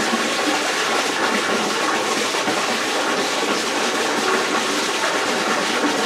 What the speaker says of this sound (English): Water's now going down the overflow.